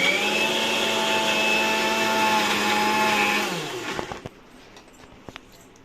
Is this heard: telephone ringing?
no